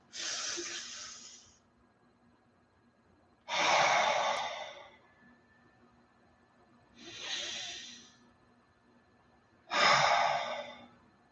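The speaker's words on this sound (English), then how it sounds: "Everyone take a nice deep breath" Four slow, deep breaths drawn close and softly during a relaxation meditation, each a long airy hiss separated by quiet pauses.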